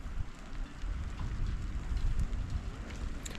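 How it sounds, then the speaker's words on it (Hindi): Rain sweeps in over the Uttarakhand hills, a close, steady patter and hiss of falling water mixed with gusty wind rumbling on the microphone, continuous and fairly loud throughout. "आ गई बारिश इधर, अब इधर आ गई है।"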